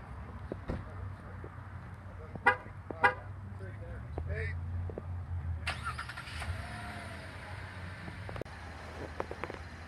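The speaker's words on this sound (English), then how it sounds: "You can start this vehicle from the comfort of your home or office with the remote vehicle start." A 2016 GMC Canyon SLT pickup truck's engine starts by remote start fairly close by after a couple of short electronic chirps, then keeps idling steadily in a quiet setting.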